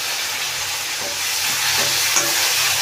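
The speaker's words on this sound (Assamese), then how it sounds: "ইয়াতে মাছতে ভাজিছোঁ দেই" Fish frying in hot oil with onion gives a loud, steady, dense sizzle that holds evenly throughout with no voices.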